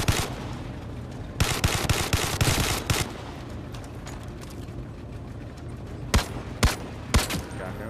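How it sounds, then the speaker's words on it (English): AK assault rifle fired in the Zero Caliber shooter game, crisp bursts of automatic gunfire in several clusters with short gaps between, loud and close. "Let's hit him with the AK."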